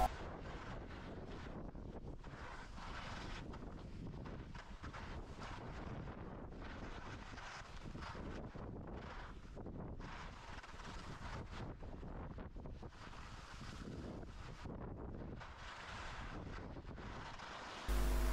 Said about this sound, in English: we're back skiing in the strong wind